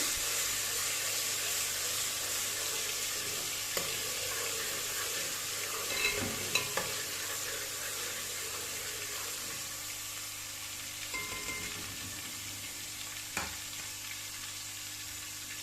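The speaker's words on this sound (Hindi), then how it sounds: "थोड़ा सा हम इसको भून लेंगे ऑयल में।" Chicken biryani masala frying in oil, a steady hiss of sizzling with occasional stirring scrapes and small clinks, continuous and fairly close with no talking.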